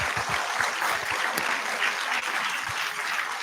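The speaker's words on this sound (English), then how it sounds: "Please clap." Applause from an audience at a medical students' white coat ceremony at a hospital, a steady dense clapping that fills the whole stretch without pause.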